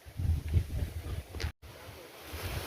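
Strong wind blows outdoors among papaya and guava trees, roaring and buffeting the microphone in a steady rush with gusty swells and one brief dropout.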